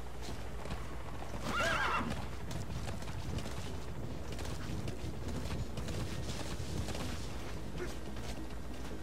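A horse in Metal Gear Solid V: The Phantom Pain (Xbox 360) lets out a loud whinny early on, followed by a continuous rapid clip-clop of galloping hooves with wind-like rushing noise, close and steady throughout.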